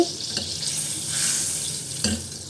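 Butter melting and sizzling in a hot kadai for broccoli gravy, a steady close hiss with a few soft stirring scrapes.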